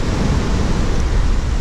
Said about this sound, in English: It's bloody windy, rough and windy, but dip my toes in the water, see how we go.